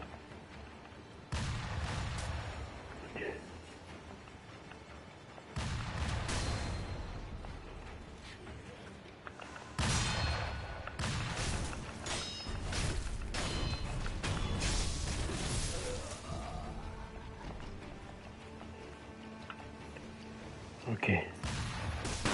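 Firecrackers go off in the video game Sekiro, a run of sharp bursts and booming pops scattered across the stretch alongside game combat noise, with a player's voice briefly talking over it.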